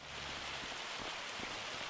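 Rain falling in Farming Simulator 25, a soft, even hiss of drops that holds steady throughout, quiet and unbroken with no voices over it.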